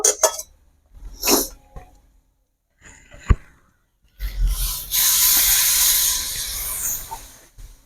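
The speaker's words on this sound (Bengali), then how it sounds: "এবার চলো আমি এর মধ্যে একটু সামান্য পরিমাণ জল দেব" Water poured into a pan of spiced drumstick and potato curry sets off a loud, sustained hiss and sizzle of steam that lasts several seconds, after a few short clatters and taps at the pan.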